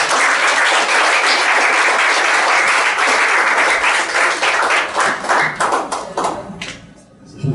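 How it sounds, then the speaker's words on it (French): A church congregation at a Sunday service applauds its pastor, dense steady clapping from many hands that thins out and tapers into scattered claps toward the end. "Je vous demande d'applaudir encore une fois"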